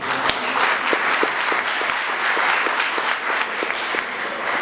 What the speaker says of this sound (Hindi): हैप्पी क्रिसमस के लिए खुदावंद यीशु मसीह के लिए बहुत सारी तालियां।